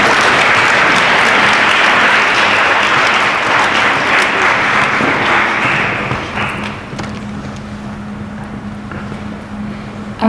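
Loud, dense audience applause fills a school athletic awards assembly honoring fall varsity athletes, sustained for several seconds before thinning and softening toward the end, with a faint low hum underneath.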